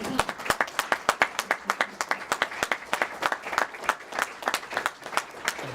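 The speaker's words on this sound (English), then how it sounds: "I think we should give these students a round of applause." Students at a school logo reveal receive applause from a small gathering, distinct close claps in a quick irregular patter, with a faint murmur of voices beneath.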